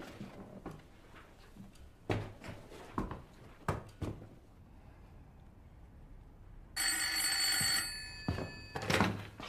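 An old-style telephone bell rings in a long insistent burst in a World War II-era office, preceded by scattered thunks and knocks of objects being handled nearby.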